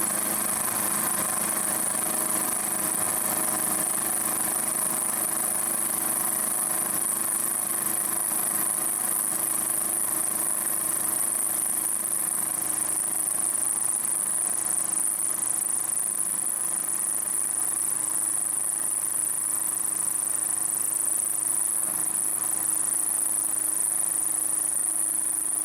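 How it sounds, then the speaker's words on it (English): A 10mm coated carbide cutter works through metal on a milling machine in conventional milling, keeping up a long, even motor hum with a thin high-pitched whine over it, alone and without speech. "this is conventional milling"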